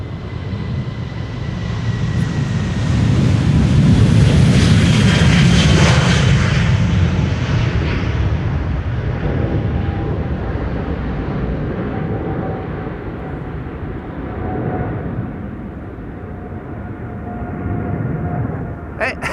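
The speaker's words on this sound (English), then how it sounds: "Big KLM taking off from center in the meantime. That's a 777-300." A KLM Boeing 777-300 jet taking off at Amsterdam Schiphol, a loud roaring engine rumble that swells to a peak and then slowly fades as the airliner climbs away.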